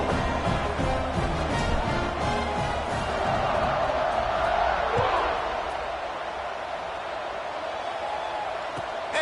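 Stadium crowd in a football video game, a broad steady roar of cheering that swells through the middle and holds beneath a commentator talking throughout.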